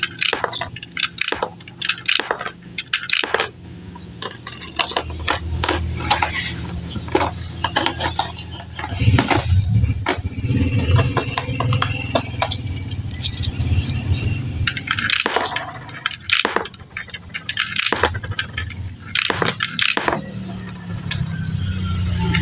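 Coins, old and new five-peso pieces, dropping one after another into the universal coin slot of a coffee vending machine, a series of sharp metallic clinks and rattles, close and irregularly spaced, with no talk.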